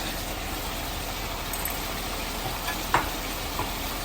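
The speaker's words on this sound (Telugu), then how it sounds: "ఈ మసాలాను కూడా ఈ విధంగా దీంట్లో వేసి పచ్చివాసన పోయే వరకు బాగా వేగనివ్వాలి" Masala frying with stuffed brinjals in a pan for a Rayalaseema-style gutti vankaya curry, a steady low sizzle throughout with one brief scrape of stirring near the end.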